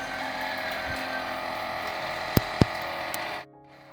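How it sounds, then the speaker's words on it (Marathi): A water pump motor runs at a village well in the Konkan countryside, giving a steady, continuous hum with a couple of sharp knocks before it cuts off abruptly near the end. "तुम्हाला आवाज पण ऐकू येत असेल मोटरचा"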